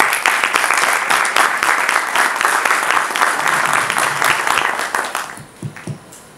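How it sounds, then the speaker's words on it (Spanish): A roundtable audience claps to welcome Dr. María Isabel Larrauri, a loud, sustained round of applause from many hands that fades in the last second, leaving a few scattered claps and faint shuffling. "para ella la vamos a recibir con un aplauso"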